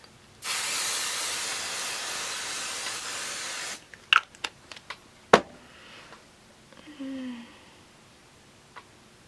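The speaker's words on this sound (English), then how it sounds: "Okay, so I'm just gonna go ahead and spray this." A spray bottle mists vinyl on an ironing table in a single long steady hiss lasting about three seconds, followed by faint handling clicks and rustles nearby.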